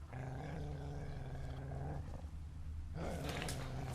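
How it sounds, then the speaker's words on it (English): Wolves in the video game The Witcher 3: Wild Hunt growl and snarl in low rumbling bursts that swell and fade over a continuous game soundscape, with no speech. "Hear the wolves?"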